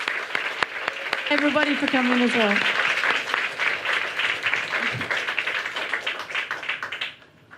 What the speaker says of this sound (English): just a huge thank you and big round of applause.